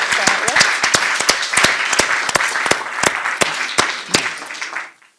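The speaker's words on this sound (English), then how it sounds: "we should do a round of applause to start with" A round of applause from an audience after a talk on social mobility through education: distinct, loud claps close by, thinning and fading out at the end.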